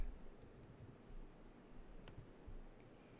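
Someone types a business name on a computer keyboard, faint soft key clicks in a loose irregular run, quiet and close, no talk.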